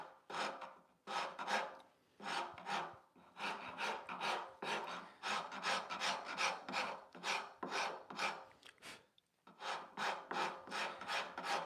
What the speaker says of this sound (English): it kind of helped me get the angle of the rasp held a little bit more precisely